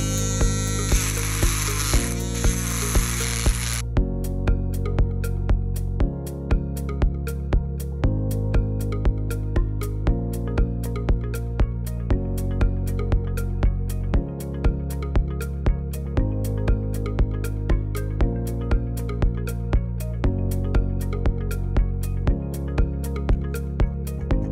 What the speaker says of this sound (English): Now I will smoothen these scratches from the side so it will be a little bit more aesthetic as a piece with a Dremel rotatory tool